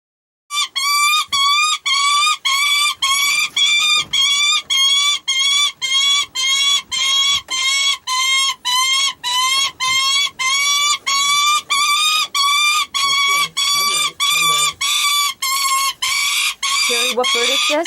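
Juvenile goshawk held in a raptor banding blind, screaming over and over in loud, piercing, evenly spaced cries that continue for the whole stretch, very close and dominant.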